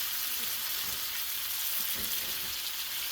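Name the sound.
pheasant back mushrooms frying in olive oil and butter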